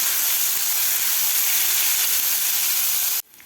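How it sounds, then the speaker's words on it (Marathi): Garlic and green chili paste sautéing in a hot tempering for moong dal varan, a loud, dense, steady hiss of frying that cuts off abruptly near the end. "लसूण आणि मिरचीचा ठेचा ठेचासुद्धा आपल्याला व्यवस्थित परतून घ्यायचा आहे"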